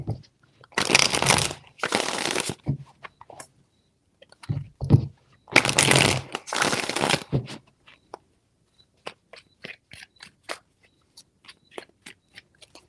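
Tarot cards are riffled in two paired bursts of crisp, dense fluttering, followed by scattered light taps and clicks as the deck is squared; close and fairly loud, no talk.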